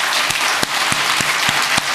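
A church congregation gives a round of thanksgiving applause during a Sunday service, clapping in a steady rhythm of sharp, loud beats roughly every third of a second, close and with no talking.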